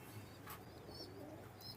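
Soft cooing of Pakistani high-flying pigeons, low throaty coos with a few faint chirps over a quiet background hum, brief and somewhat distant.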